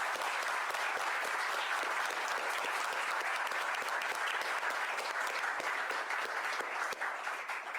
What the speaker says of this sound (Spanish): un fuerte aplauso para todos nuestros ponentes